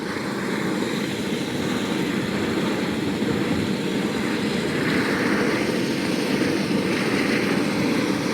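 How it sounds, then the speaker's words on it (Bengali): A helicopter engine runs on the ground at a work site just before takeoff, giving a loud, continuous, close roar with a steady churning texture and no pauses. "একদম পুরা রেডি হয়ে গেছে হেলিকপ্টার।"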